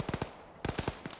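Machine gun fire from an Arma Zeus operation, two quick bursts of sharp, loud shots in rapid rhythm separated by a brief pause, with no voices.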